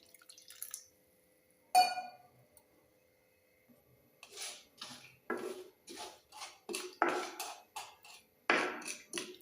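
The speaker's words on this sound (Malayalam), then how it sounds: "ചീകിയെടുത്ത ശർക്കരയിലേക്ക് 1 ഗ്ലാസ് വെള്ളം ഒഴിച്ചു കൊടുക്കുന്നുണ്ട്." A glass of water splashes onto grated jaggery, arriving as quiet, close, intermittent splashes and drips after a single clink near the start.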